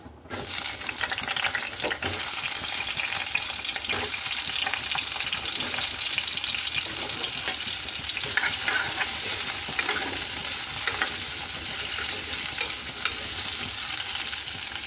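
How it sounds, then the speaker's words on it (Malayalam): Potatoes frying in oil in a pan and being stirred: a continuous loud sizzle with scraping and clattering from the stirring, close by and without any voices. "അപ്പോൾ നമുക്ക് ചട്ടിയിലേക്ക് ഉരുളക്കിഴങ്ങ് ഇട്ട് കൊടുക്കാം"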